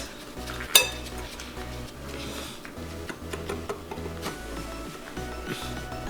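Bath bomb ingredients, baking soda, cornstarch, Epsom salt and citric acid, being stirred in a bowl, giving steady scraping and clinking of a utensil against the bowl with one sharp tap near the start and music underneath.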